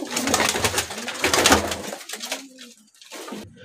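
Pigeons coo close by, giving several soft, throaty rolling calls in quick succession with flutters and rustling in between. A quieter call comes near the end.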